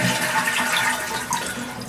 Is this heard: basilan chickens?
no